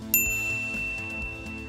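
A bright notification bell dings once, clear and close, and its tone rings on over a soft musical bed.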